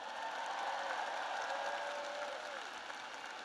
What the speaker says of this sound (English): let's give a big round of applause to your incredible parents